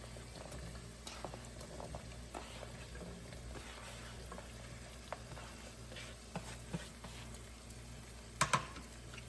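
Potatoes cook in a pan of cabbage, potato and tomato curry with ginger-garlic paste, giving a soft, steady sizzle and bubbling, with a couple of sharp utensil clinks near the end.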